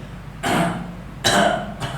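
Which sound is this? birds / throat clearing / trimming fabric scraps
throat clearing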